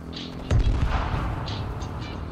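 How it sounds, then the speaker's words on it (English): Explosions go off in the video game H1Z1, a battle royale: a heavy low boom lands suddenly and rumbles on, with muffled blasts and crackle behind it at moderate distance. "Oh, there's explosions going on over here."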